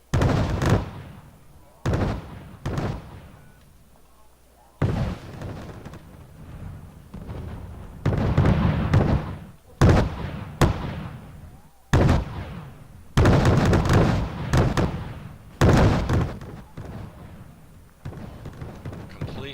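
Soviet missile volleys launch in Wargame: Red Dragon as a series of loud, sharp blasts, each followed by a roaring decay, repeating irregularly about a dozen times, close and powerful.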